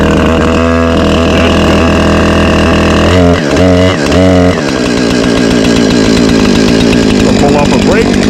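A Husqvarna 455 Rancher chainsaw runs loud and close, its engine buzzing steadily before a few revving surges and a drop back to a rough idle, with no other sounds.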